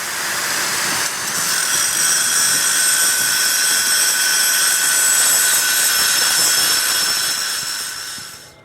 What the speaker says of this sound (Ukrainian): Зараз я шліфую його ще на гріндель